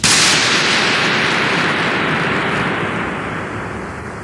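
A single sharp gunshot fired for acoustic measurement in a chapel, followed by a long reverberant decay ringing through the enclosed space, fading over several seconds.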